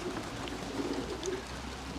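Pigeons in a loft settling cage give a brief stretch of soft, low cooing, quiet and close with no talking.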